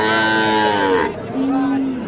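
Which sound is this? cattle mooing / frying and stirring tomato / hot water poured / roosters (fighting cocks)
cattle mooing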